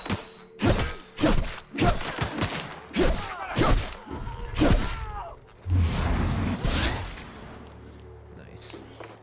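Melee weapon hits landing in The Outer Worlds, a run of heavy thuds and whacks in quick bursts, some with sharp cracking edges, fading into a lower rumble toward the end.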